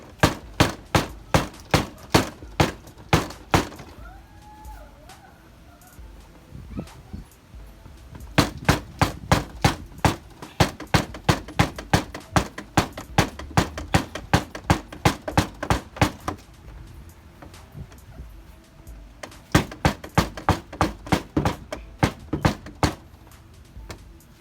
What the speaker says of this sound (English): that was basically all I did using this mallet, trying to hit the dent from the inside of the bumper